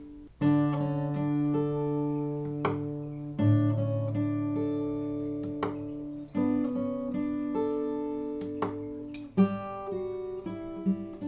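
Fingerpicked acoustic guitar chords ring out in a steady, repeating pattern, each chord change marked by a fresh strummed attack, played alone and up close.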